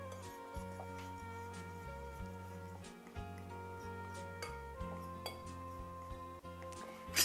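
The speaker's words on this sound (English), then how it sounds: "We will mix all these ingredients together" Ingredients for a chocolate cake batter are mixed together in a bowl, with light clinks and taps of a utensil against the bowl sounding at an irregular rhythm over a faint steady background hum.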